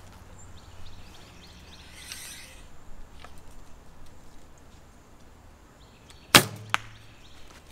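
An arrow is loosed from a bow at a 20 to 30 meter outdoor range, a sharp snap followed moments later by a fainter thud, set against quiet ambient background.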